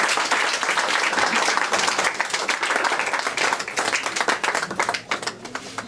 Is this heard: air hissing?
no